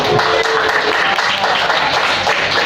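Steady applause from a high school class fills the whole stretch, a dense, continuous patter of many hands clapping at once.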